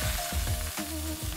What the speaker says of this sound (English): we're gonna add our lamb's quarters for about 30 seconds